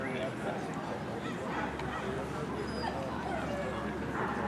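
Dogs at a dog show, yipping, barking and whimpering amid a busy crowd babble and voices, the animal sounds fairly faint within the steady hubbub.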